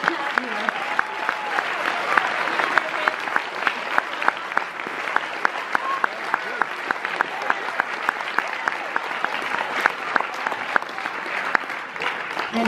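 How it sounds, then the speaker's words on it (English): An audience at a middle school production of Guys & Dolls Jr. applauds the crew, a dense steady wash of many hands clapping for the whole stretch, with a few faint voices and whoops mixed in. "And our second huge round of applause goes to our crew."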